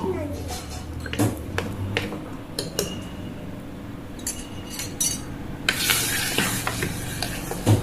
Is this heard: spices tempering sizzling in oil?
yes